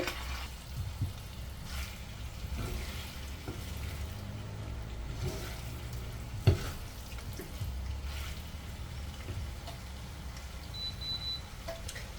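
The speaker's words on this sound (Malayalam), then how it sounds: "വലിയാക്കി വെച്ചിരിക്കുന്ന ബീഫ് ഇതിലേക്ക് ഇട്ട് കൊടുക്കാം കേട്ടോ ഇളക്കാൻ കുറച്ച് പാടാണിത്" Beef frying with curry leaves in a pan and being stirred, a steady close sizzle with occasional scraping and clinks throughout.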